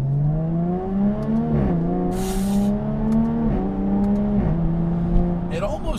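A Jaguar F-Type V6S coupe drones loudly from inside the cabin, its engine and exhaust rising through the gears with brief dips at each shift, while someone talks over it.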